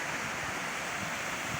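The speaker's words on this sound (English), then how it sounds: "another look at the dam and its relief where it makes these little waterfalls" Small waterfalls spill from the relief at the Clayton Lake dam, a soft, steady, distant wash of falling water with no other sounds.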